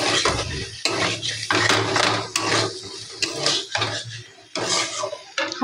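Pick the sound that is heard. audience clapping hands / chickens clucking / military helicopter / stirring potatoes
stirring potatoes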